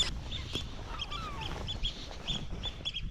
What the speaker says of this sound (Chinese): 那刚才这群大鹅看来也只是在这休息